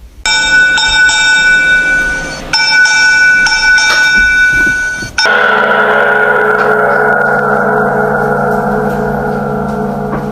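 A ship's bell rung as a fog signal for a vessel in restricted visibility, loud, rapid, ringing peals with a long metallic decay that repeat in bursts and then give way to a sustained, fading tone.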